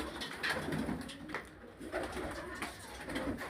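Pigeons coo in repeated low, throaty phrases nearby, with faint background noise between calls.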